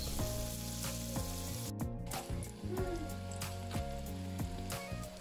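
Tofu and corned beef balls coated in tapioca flour sizzle in hot oil, a close, continuous crackling fry with small pops and occasional stirring.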